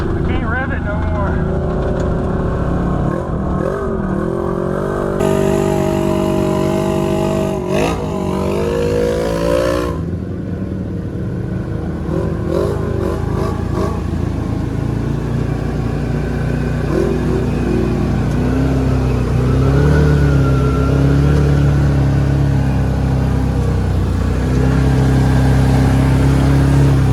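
Engine of an original Can-Am Maverick side-by-side revving loudly up and down in muddy terrain, the pitch rising and falling in sustained surges, with people talking over it.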